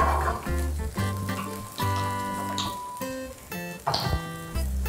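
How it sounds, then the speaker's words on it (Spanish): Mushrooms fry in a pan while being stirred, giving a steady close sizzle broken by scraping strokes as they are turned, under tonal background music and without talk. "Vamos a seguir revolviendo nuestros champiñones, ¿sí?"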